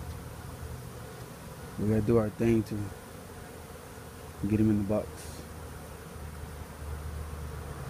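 Honey bees buzz steadily while a hive is removed from a window in Edinburg, Texas; a low, continuous drone sits under two short bursts of close male speech.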